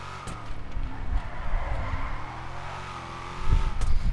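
A drift truck in GTA 5 revs its engine, which rises and falls in pitch, with tire squeal and skidding noise and a louder surge near the end, and no talking over it.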